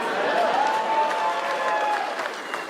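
A comedy club audience claps and cheers, a dense burst of applause from a crowd that holds steady for a few seconds and slowly tapers.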